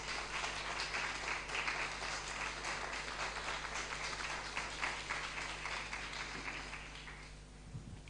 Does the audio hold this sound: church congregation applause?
yes